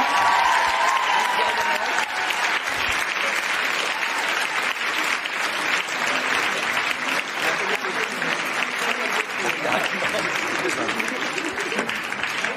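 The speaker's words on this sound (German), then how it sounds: "Ein Applaus an euch selber" A live audience at a podcast festival in Cologne applauds loudly and continuously in a sustained roar of clapping, with cheering voices and talk mixed in over the top.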